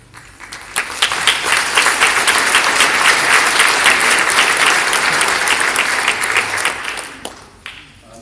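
Applause from a gathered audience at a community talk, a dense, loud wash of clapping that builds quickly, holds steady for several seconds, then tapers off, with no voices over it.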